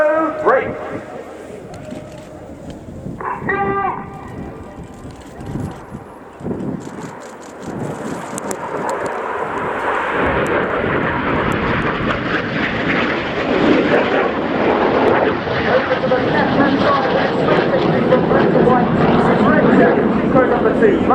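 Red Arrows jets perform a display at the RIAT air show at Fairford in 2017, their engine roar swelling from distant to a loud, sustained rush overhead, with a commentator talking over it.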